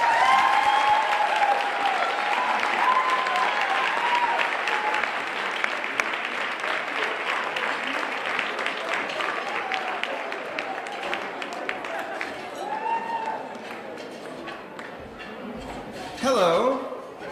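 Sustained applause from a gala audience at a holiday charity benefit, steady dense clapping that fills the room, tapering slightly before a voice begins speaking near the end.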